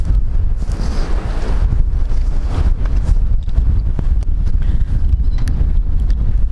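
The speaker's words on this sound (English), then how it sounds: "Little windy out here today." Strong wind buffeting outdoors, a constant loud rumble with gusty roaring across the whole stretch, no talking.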